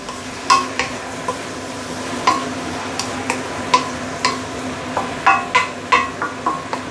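Roast pork being stir-fried with leeks and Shaoxing wine in a wok: a quick run of sharp metallic scrapes and clacks from the spatula over a constant sizzle, close up, with no voices.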